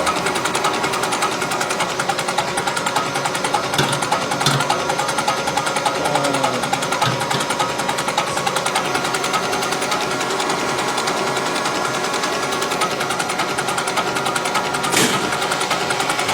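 Diesel engine with a rebuilt P7100 injection pump on a Monaco Dynasty, heard as a steady dense mechanical clatter and hum that runs unbroken for the whole stretch, close and loud, with no talk.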